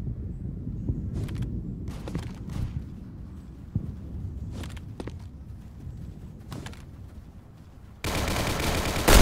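Gunfire from a sniper in a war drama set in 1968 sounds as a few sharp, scattered shots over a low rumble, ending in a burst of loud, dense noise.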